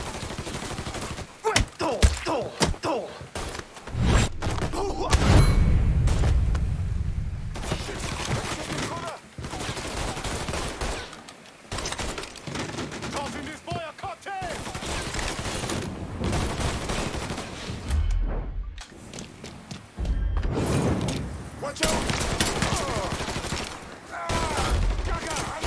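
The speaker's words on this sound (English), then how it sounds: "Shoot him from this side!" Gunfire in the Mafia III video game crackles in repeated bursts and volleys, mixed with explosions and heavy impacts, while voices shout over the chaotic firefight.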